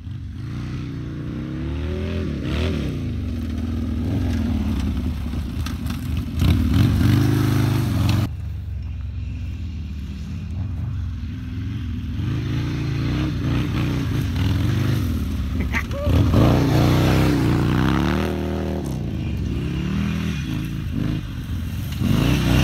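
Dirt bikes rev and ride over dirt, their engines loud and close, rising and falling with throttle bursts and gear changes, with clattering and scraping from the ground throughout.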